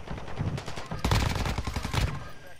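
Rapid video game gunfire crackles in dense bursts, with shotgun blasts and sniper shots mixed into a continuous close, loud barrage lasting a couple of seconds.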